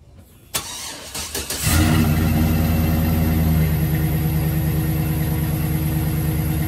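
A 2008 GMC Sierra pickup's engine cranks briefly after a few clicks, catches with a loud surge, then settles into a steady, close idle rumble.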